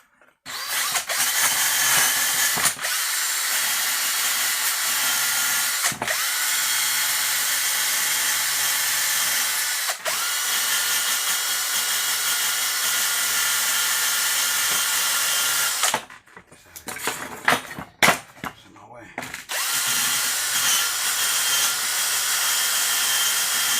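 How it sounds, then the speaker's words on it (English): A handheld drill fitted with a wire brush scours a weld on an RX8 part, a loud continuous whir broken by brief pauses and a stuttering stop-start burst near the end. "I'm going to just try to hit it with the wire brush. Right fast. Come on, drill."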